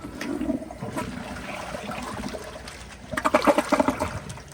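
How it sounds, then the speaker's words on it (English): Glacier Bay dual-flush elongated toilet flushing a grocery bag, a gurgling rush of water that surges louder near the end, close up and without talk. "here's the flush."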